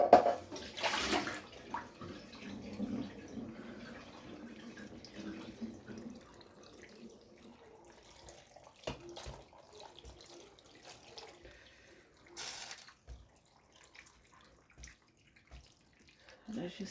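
Water pouring and splashing into a cooking pot while preparing a mutton and vegetable sauce for couscous, a brief louder pour near the start and another later, with softer trickles and clinks between.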